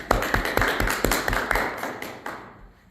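An audience at a youth speaking event claps after a speech, scattered sharp claps in a quick irregular patter that thins out and fades to quiet within a few seconds.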